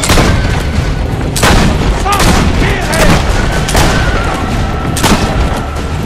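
Gunfire and heavy booms in the video game Assassin's Creed: Brotherhood, several loud blasts punctuating a dense, continuous battle din.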